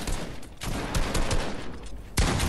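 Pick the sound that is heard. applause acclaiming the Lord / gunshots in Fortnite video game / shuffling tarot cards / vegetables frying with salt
gunshots in Fortnite video game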